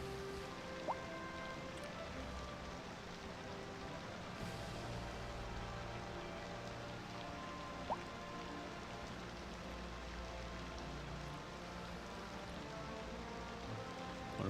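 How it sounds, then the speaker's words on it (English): Steady rain falls in the city-building game Cities Skylines 2, a soft even hiss of drops with a few faint clicks, no voices. "It's raining."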